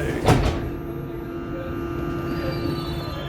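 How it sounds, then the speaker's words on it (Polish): A Warsaw metro train runs with a steady low rumble and hum, a brief louder swish near the start, then continuous even running noise inside the carriage, with no talk. "A proszę, jedę metro."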